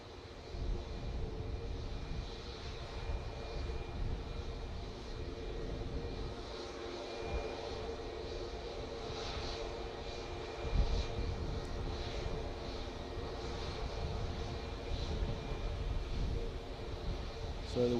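A SunExpress Boeing 737-800 MAX bound for Antalya at Manchester Airport, a steady distant jet engine roar with a faint tonal hum, wind buffeting the microphone at times.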